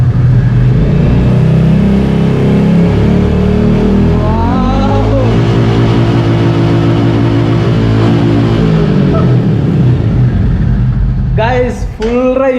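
A 2021 Royal Enfield Classic 350 engine runs loud and close, then revs up into a rising drone that holds before easing off, with brief clatter near the end.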